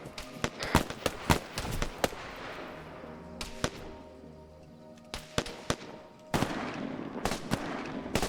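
Military video game firefight with sharp gunshots cracking in irregular bursts, some single shots and some rapid clusters, loud and close against a quiet background with a low hum between volleys.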